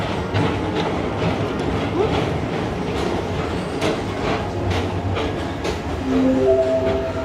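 Space Mountain indoor roller coaster at Magic Kingdom, its cars giving off a steady loud rumbling clatter like a train on rails, with brief tonal sounds rising near the end.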